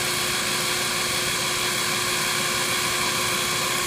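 A Grizzly G0765 7x14 bench lathe spins at around 893 RPM in low gear, a steady loud motor whine with a constant hum and no variation or talk.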